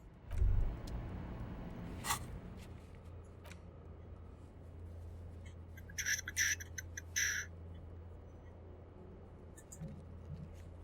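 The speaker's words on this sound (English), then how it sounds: "You close the rusty old lorry door." In the video game Disco Elysium, a rusty old lorry door shuts with a heavy, low thud near the start, followed by sparse metallic clicks and rattles against a quiet background.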